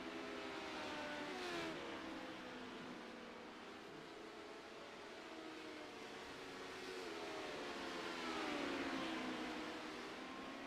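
Race car rolling down pit road in a racing game, a steady engine drone with gear-shifting pitch sweeps that swell and ease, moderately faint.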